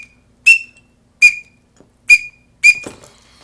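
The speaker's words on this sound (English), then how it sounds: "I see an incredible difference in using a teal whistle when I have teal working" Four sharp, high whistled peeps from a teal duck call, evenly spaced about three-quarters of a second apart, clear and close with no voices, the last note slightly rougher.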